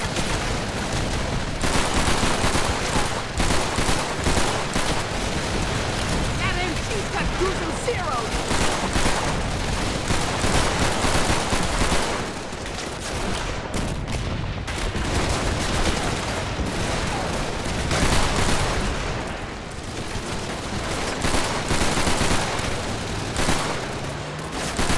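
Sustained machine gun fire in the Call of Duty 3 campaign, a dense, continuous clatter of rapid bursts mixed with other gunfire and battle noise, loud throughout with shouting voices underneath.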